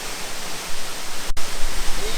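The Golondrinera waterfall in Nahuizalco, El Salvador, roars as a dense, steady broadband rush of falling water, loud and close, with a brief dip in the noise midway through.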